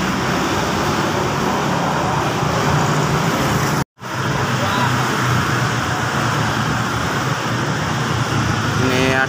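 A tour bus passes on a busy road near an underpass, amid steady, loud traffic roar with a brief dropout partway through; no talking is heard.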